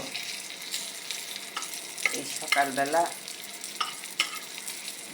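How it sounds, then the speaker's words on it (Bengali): Small hilsa fish sizzle and crackle in hot oil while being turned and stirred in a pan, with a few scraping clicks and a brief spoken phrase over the frying. "ভাজা করতেছি বন্ধুরা। ইলিশ মাছ"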